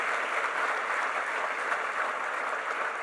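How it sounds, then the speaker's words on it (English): Steady applause for the chief guest at an Indian Army MoU signing and felicitation ceremony, a dense, even wash of many hands clapping at once, moderately distant and sustained throughout. "Please give a huge round of applause for the honorable chief guest."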